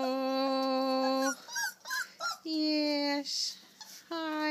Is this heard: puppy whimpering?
yes